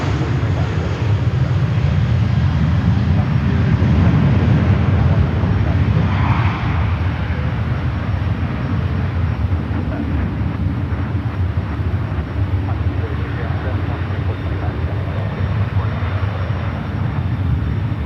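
A Delta Boeing 737-900ER jet rolls along the runway at SFO, a steady, loud engine roar with rumbling low end that stays constant throughout, as if heard from a distance in wind.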